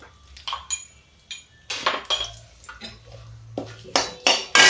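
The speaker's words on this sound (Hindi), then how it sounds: "ये तेजपत्ता डाल देती हूँ, मसाले डाल देते हैं" Bay leaf and spices go into a cooking pan for a rajma nimona: a series of sharp metallic clinks and scrapes of a spoon against the pan, some close and loud, separated by brief quiet gaps.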